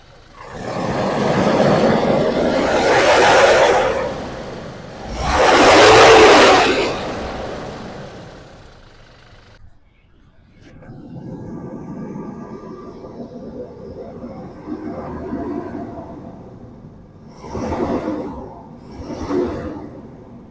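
A 2018 Toyota Innova Crysta Touring Sport engine runs nearby with a broad, steady rumble that swells loudly twice early on, drops away briefly, then returns at a lower idle with short bursts near the end.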